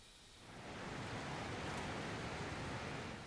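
Steady, rushing roar of a waterfall in the video game Dragon Age Inquisition swells up after a quiet start and holds as a dense, even wash of falling water.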